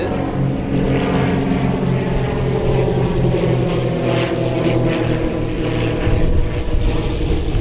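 A propeller airplane flies overhead, its engine a loud, steady droning roar that holds throughout with only slight swells, and no other sound rises above it.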